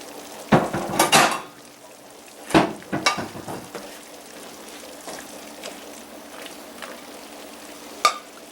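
A utensil scoops pot roast out of a pot, with several loud metallic clanks and scrapes against the pot over a low simmering hiss, then a final sharp clink.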